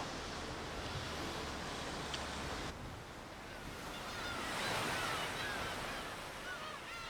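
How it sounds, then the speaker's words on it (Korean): Rough sea surf and strong wind on the exposed Guryongpo coast in Pohang, a continuous roaring wash that swells louder midway, with wind buffeting the microphone and no voices. "바람이 세고 섬이 없어 거친 바다와 직접 얼굴을 맞대야 하는 구룡포"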